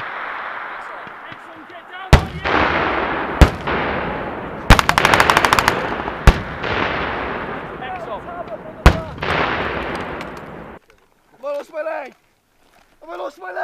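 During a British Army officer cadet field exercise in Germany, a weapon fires with back blast: several sharp, loud bangs and a fast burst of gunfire over a steady rushing noise, with soldiers shouting nearby.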